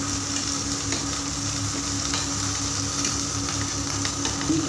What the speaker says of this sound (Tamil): இப்போ அதை நல்லா வதங்குற மாதிரி பண்ணிக்கலாம்